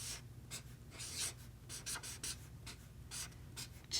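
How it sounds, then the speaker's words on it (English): Marker strokes on a classroom chart as a how-to writing checklist is written, a steady run of short squeaky scratches and pauses, close and alone with no talking. "I'm going to write my how-to writing checklist on our chart."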